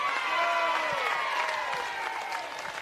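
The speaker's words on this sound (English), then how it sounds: "Hear a roar there from the Australian crowd." Australian crowd roaring and applauding at a World Bowls para women's pairs final, a sustained wash of cheering heard from a distance that eases off toward the end.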